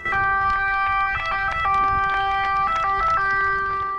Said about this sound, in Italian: Sirene che dunque hanno suonato per la prima volta, non per l'emergenza, ma contro l'emergenza